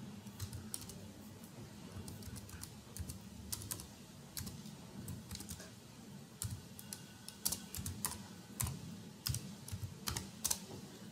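Typing on a computer keyboard to enter an email address, with steady irregular clicking keystrokes and occasional quick bursts, close and moderately loud over a faint low hum, no talk.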